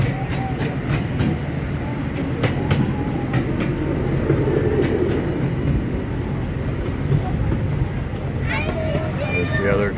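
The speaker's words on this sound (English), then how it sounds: "These little trains are actually steam engines." A small amusement park steam train rolls along close by with steady rumble and rhythmic clicking of wheels on track, under continuous voices.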